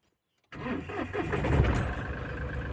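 A car engine cranks and catches after a short silence, then settles into a steady idle close by, with faint talk.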